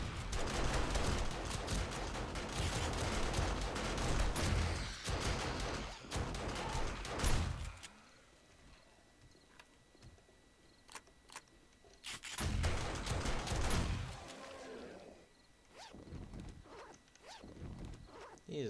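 Automated turrets blast away at an incoming Day 30 zombie horde in 7 Days To Die, a loud, dense rattle of rapid shots for several seconds, a quieter lull, then another sustained volley before it fades.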